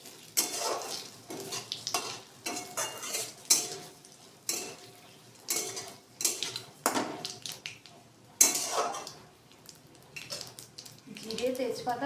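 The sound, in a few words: bay leaves, cumin and dry chillies sizzling in hot oil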